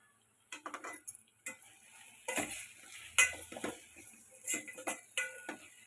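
Brinjal curry with garlic chili powder being stirred after coriander goes in, a string of close, distinct scrapes and taps of a spoon against the pan separated by short quiet gaps.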